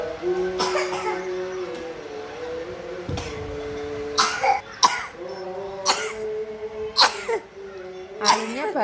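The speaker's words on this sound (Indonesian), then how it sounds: "Akhirnya batuk guys." A young child who has been sick for a few days coughs in several sharp bursts spread across the moment, close to the microphone, while a child and an adult talk in between.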